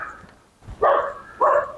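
Two sharp barks from dogs, one after the other, at moderate distance over a quiet background, with a low thump just before the first.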